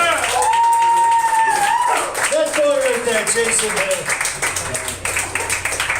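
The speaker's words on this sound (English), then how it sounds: "please keep an applause going for the new comedy duo" Audience clapping for a comedy duo at a stand-up comedy show, a spread of applause under a loud announcer's voice that carries on throughout.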